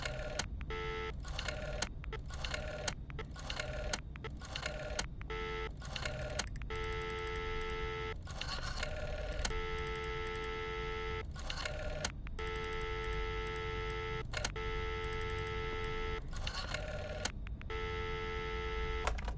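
An old telephone in the horror video game Friday the 13th rings electronically in repeated bursts, loud and close, over a steady low game ambience with no talking.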